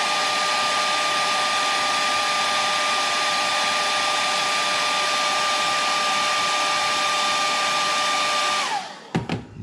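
A hair dryer blows a loud, steady, close whir across a watercolor painting for about nine seconds, then cuts off abruptly and spins down.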